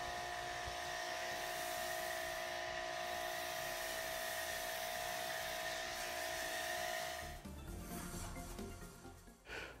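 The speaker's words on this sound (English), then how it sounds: "So we're going to take Angel Wax Fast Foam and we'll foam it" Foam cannon or pressure washer spraying Angel Wax Fast Foam onto a car, a steady high whining drone that holds, then breaks into a rougher hiss and spatter near the end; no talking.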